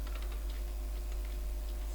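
Typing on a computer keyboard during a coding session, a quick, fairly quiet run of light key clicks over a low steady hum, with no talking.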